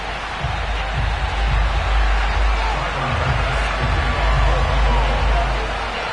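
Sold-out stadium crowd at a Bills versus Lions game in an EA Sports football video game, a steady, dense roar of many voices that holds at a loud, even level throughout.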